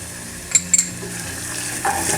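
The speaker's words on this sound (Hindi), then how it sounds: "इसे भी मैं हल्का सौते कर लूँगी।" Chopped medium-sized onion sautéing in a pan for homemade pizza sauce, a steady soft sizzle with a few sharp clinks and scrapes of a stirring spoon against the pan, close and alone with no talk.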